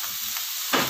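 Beef satay pieces frying in a pan give off a steady sizzle throughout, with a louder burst of hissing near the end, likely as meat is moved or stirred; no voices.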